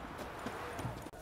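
Horse hooves clip-clop at a walking pace in the video game The Witcher 3, a few soft, muffled footfalls at low level beneath a faint background bed.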